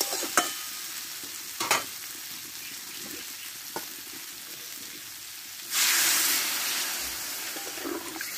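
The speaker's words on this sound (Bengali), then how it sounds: "এবার আমি পরিমাণ মতো জলটা দিয়ে দেবো" Water is poured into a pan of potato and papaya curry frying in spices, and a sudden loud hiss rushes up partway through after a few quiet clinks of stirring.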